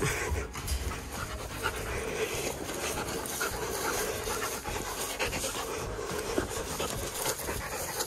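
Dogs panting steadily and rapidly, close by, with a continuous breathy rhythm throughout.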